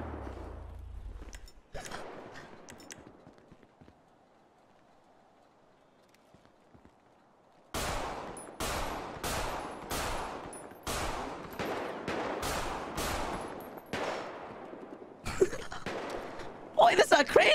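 Rapid gunshots in GTA 5 roleplay, a series of sharp, evenly spaced cracks after a quiet stretch, close and loud, with more shots bunched at the end and some talk earlier.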